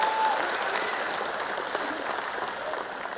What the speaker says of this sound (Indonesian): Tepuk tangan dong untuk Mas Ganjar dan Prof Mahfud